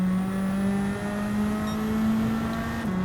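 A McLaren F1 GTR Group 4 race car in Gran Turismo 7 holds a loud, steady engine drone with a slowly rising pitch, then dips briefly as a gear shifts near the end.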